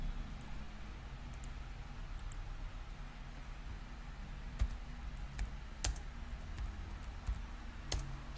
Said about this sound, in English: typing the information, which is what I'm technically doing now